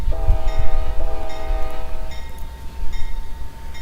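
SD70M locomotive horn in the Trainz video game, two steady tonal blasts close and loud over a low rumbling rail background, with a faint bell-like ringing afterward.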